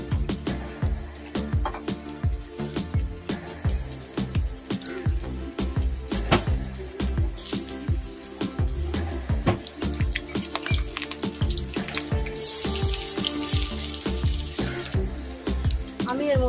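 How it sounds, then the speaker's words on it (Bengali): Cut taro pieces hit hot oil in a wok, setting off a dense run of sharp crackles and pops that keeps sputtering throughout, with a voice talking over it. "আমার এখানে তেলটা গরম হয়ে গেছে, আমি কেটে রাখা কচুগুলো দিয়ে দেবো"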